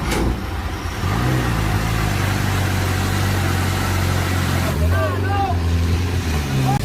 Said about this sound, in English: The semi-truck strains under a dangerously tilted container, its rear wheels spinning and smoking as the engine roars in protest.